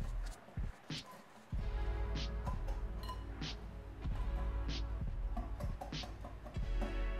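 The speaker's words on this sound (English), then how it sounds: "Got all my dry ingredients in here, and I'm just gonna whisk it together." A whisk stirs dry muffin ingredients, flour with sugar and baking powder, in a bowl, sending out a quick run of close, rhythmic clinks and scrapes against the sides over several seconds, with no voices.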